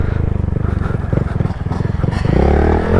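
A Honda Grom motorcycle engine revs loudly and close as the small bike rides up to a dirt jump, with a steady throaty drone, rising pitch near the end and a brief voice mixed in.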